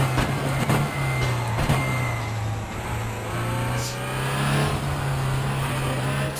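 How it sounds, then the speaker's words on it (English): A Cupra Leon E-Racing electric race car drives in RaceRoom Racing Experience with a loud, steady low drone that rises and falls slightly as it accelerates, and there is no talking. "the exhaust note is so low, it's deceiving of when to change gear"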